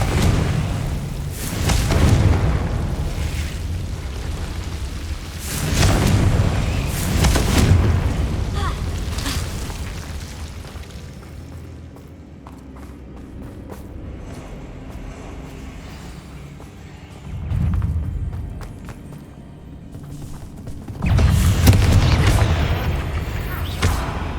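Confringo blasting spell firing in Hogwarts Legacy on PS5: several loud booming explosions in bursts, with a quieter rumbling stretch between them.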